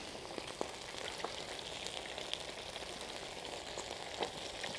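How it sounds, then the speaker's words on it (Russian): Onion fries gently in a pan, giving a soft, steady sizzle with occasional small pops and crackles, fairly quiet and continuous, with no voices over it. "Вернемся к жареному луку. Я про него и забыл, а он у нас тут потихоньку жарится."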